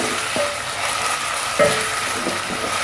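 Ginger garlic paste fries in a pan for a tinda masala, giving a steady, fairly loud sizzle with a few faint clinks of a spoon against the pan.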